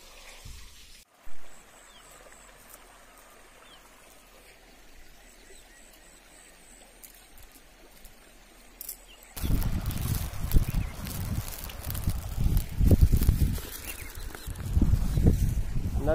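River water flowing, a steady close rushing and churning that starts abruptly partway through after quieter outdoor ambience with faint birdsong.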